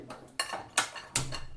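A metal kadai is set down on a kitchen stove in three separate clanks while poha is being made, each a sharp nearby clatter of metal on metal with a short ringing tail.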